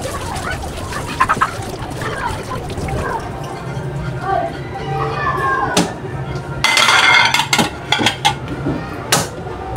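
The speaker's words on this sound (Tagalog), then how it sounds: "And then, maghugas na tayo ng plato." Dishes and plates being washed by hand, with clattering ceramic knocks and scraping, bursts of running water and sharp clinks, close and fairly loud under intermittent talk, with birds or chickens faintly in the background.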